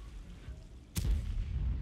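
A tank cannon fires once in the Sandbox video game, a single loud, close boom with a sharp crack that rolls into a low, sustained rumble over faint background ambience.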